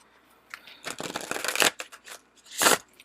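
Tarot and oracle cards are shuffled up close in a burst of crisp riffling and flapping, then a pause and one more quick riffle, with no talk.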